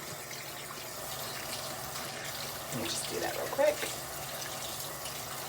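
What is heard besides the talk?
water running from a tap to wet a beauty sponge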